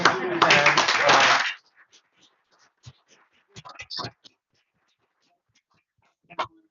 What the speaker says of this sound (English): I want to hear a big cheer for cocaine history